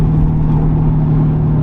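A Porsche 928 engine pulls hard on the Nürburgring, a loud, steady low drone that holds strong and close throughout the short burst, heard from inside the car.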